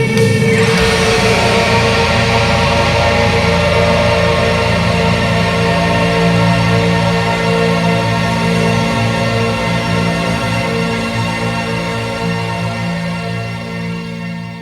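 Full epic metal arrangement of a song, with dense distorted guitars, heavy drums and brass layered into a big, loud, sustained wall of sound that plays alone and fades slightly toward the end.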